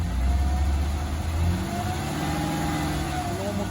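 A 2002 Ford Escape fitted with a replacement aftermarket exhaust runs with a steady, droning engine note that rises slightly, heard close and continuous with people talking over it.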